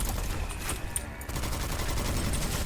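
Rapid fire from the Midas rifle in the Witchfire video game, a dense continuous rattle of close, loud shots under steady game noise, with no speech.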